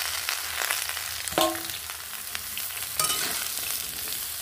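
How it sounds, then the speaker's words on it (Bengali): Ridge gourd and pointed gourd with potatoes fry in a pan, giving a steady close sizzle broken by a few louder scraping stirs with a utensil, with no talking. "এটাও বেশ সুন্দর করে আমি একটু কষিয়ে নেব, ভাজি করে নেব আর কি।"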